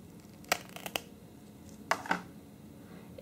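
A brand new pair of false lashes peeled off its packaging: faint, close crinkly clicks and soft scratches in a few short bursts over a quiet background.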